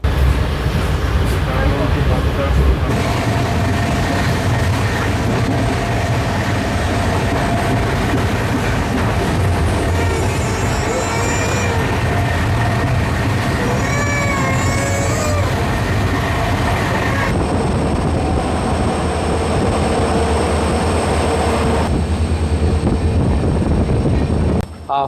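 Train on the Mangaluru–Bengaluru line, heard from inside a vista dome coach while running: a steady, loud rumble and rattle throughout, with occasional higher squeals from the wheels or track.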